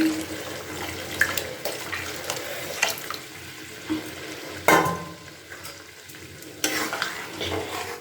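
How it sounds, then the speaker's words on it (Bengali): Hot water poured into a pan of dal and spices, then stirred: a wet hiss and splash with several sharp spoon knocks and scrapes, fairly quiet and close, no speech. "এবার আমি দিয়ে দিচ্ছি কিছুটা গরম জল এখানে"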